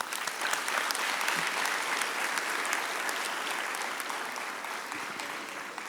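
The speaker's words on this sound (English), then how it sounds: "Another round of applause for all our graduates" Sustained applause from a large audience at a school commencement ceremony, honoring the graduates, a steady dense wash of clapping that holds evenly throughout.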